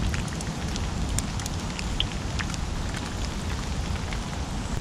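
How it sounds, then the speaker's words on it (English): Heavy rain drums steadily on a tarp over a bivvy at a wild camp, a dense continuous patter with occasional louder drops, no talking. "currently rain, later rain"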